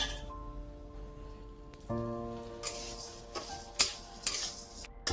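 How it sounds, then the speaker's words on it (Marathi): Urad dal roasting in oil in a pan, with a steady tonal hum throughout and scattered scraping stirs and light clinks of a utensil against the pan. "तेल टाकून मी छान भाजून घेणार आहे उडदाची डाळ।"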